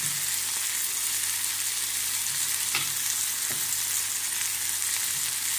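Tomato, coriander seeds and a lump of jaggery roast in oil in a pan with a steady, loud, even sizzle, broken by a few faint taps of a utensil. No one speaks.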